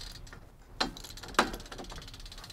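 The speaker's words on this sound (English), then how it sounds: "It helps so you can loosen this nut up first." A ratchet works loose a nut on a Shimano FC-S500 Alfine bicycle crank, making two sharp metallic clicks with soft mechanical rattling between them, close by and without talk.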